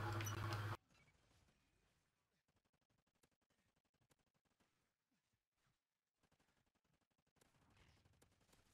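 Gunfire rattles in a Call of Duty: Ghosts match as rapid trains of faint, sharp shots, several short bursts separated by brief pauses, after a loud blast at the very start.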